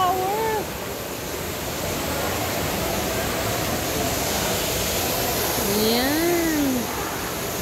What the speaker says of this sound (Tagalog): Ayan pala may shower.